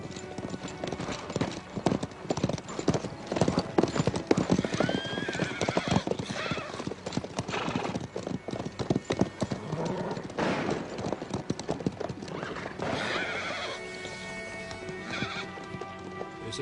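Hooves clip-clop steadily while a horse neighs and whinnies, with faint voices and rustling movement nearby throughout.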